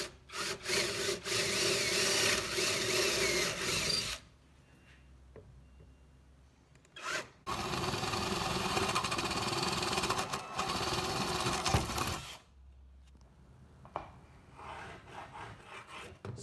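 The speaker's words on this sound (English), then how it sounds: "I'm going to drill holes right in the corners." Loud, continuous power-tool whirring as a drill bores holes into the corners of a wood cutout for a chicken coop door, in two long bursts of several seconds each, separated by quieter pauses with a few short blips.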